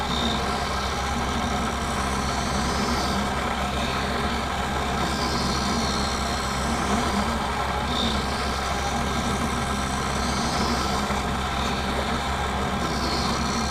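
A lens edging machine cuts an eyeglass lens under a water jet spray, giving a steady whirring, hissing drone that continues evenly throughout with no pauses.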